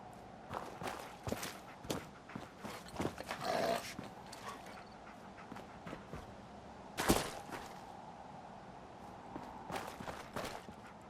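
Dogmeat, the dog companion in the Fallout 4 video game, padding along with soft footsteps, sniffs and light panting, with a few sharper thuds and scuffs against a quiet game ambience.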